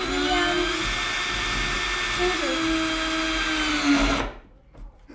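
A power drill whines steadily at high speed for about four seconds while drilling into wood, then cuts off abruptly, leaving quieter background noise.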